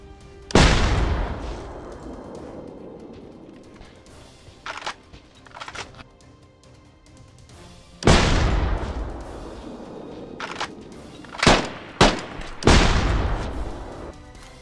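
Gunshots ring out in the video game DayZ: several loud, sharp reports with long echoing decay, two big blasts spaced apart followed by a quick cluster of shorter shots, with no talk.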